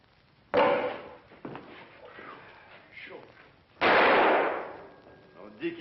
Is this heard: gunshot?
yes